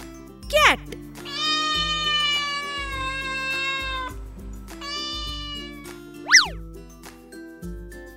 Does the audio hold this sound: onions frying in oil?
no